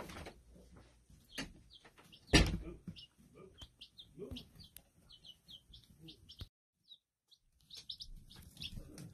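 Young chicks in a hen house chirp in a steady scatter of thin high peeps, close and fairly faint, with a sharp knock and a few brief pauses, while someone speaks.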